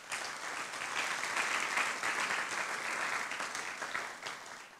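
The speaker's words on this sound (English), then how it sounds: "if everyone can give them a big clap." Steady applause from an audience, a dense wash of clapping hands holding fairly level for several seconds with no talking.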